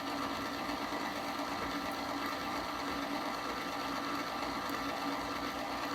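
A primer pocket uniformer cuts into a rifle brass case, giving a steady, continuous whirring grind with a dense buzzing texture that holds at an even, moderate level throughout.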